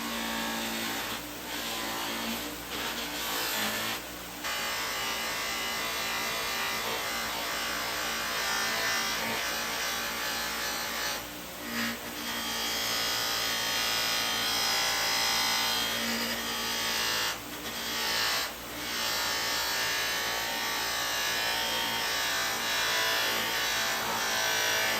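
A buffing wheel running circle-sewn white compound polishes stainless steel classic car trim, giving a steady, close, rushing whir with rubbing friction and occasional brief dips where the pressure eases.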